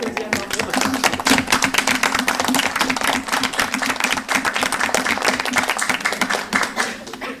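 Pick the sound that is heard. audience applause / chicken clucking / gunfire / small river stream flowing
audience applause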